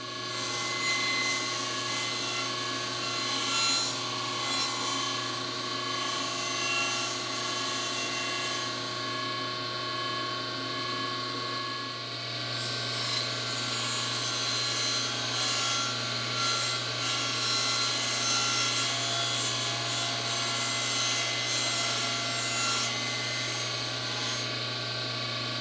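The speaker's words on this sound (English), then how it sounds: "run it through the saw and cut off that first edge" A saw cuts the edge off a sheet of glued plywood, running as a loud, steady, sustained whine with a continuous rasping texture that shifts slightly partway through the cut.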